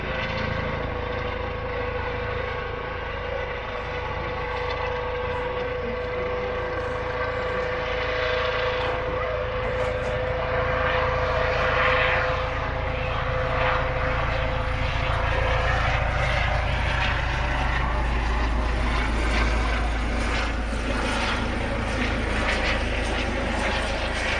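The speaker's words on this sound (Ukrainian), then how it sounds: "Звітає медичний гелікоптер." A medical helicopter drones steadily overhead for a long stretch, its rotor and engine roar constant and fairly loud, with no voices.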